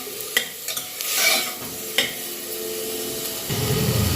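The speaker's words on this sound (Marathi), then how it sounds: "मी है घालते आहे बटाटा टोमॅटो हलवून घेते आहे" Potato and tomato are stirred in a pot for a mung and moth bean soup, with a few distinct spoon knocks and scrapes over a soft sizzle, then a louder, fuller simmer near the end.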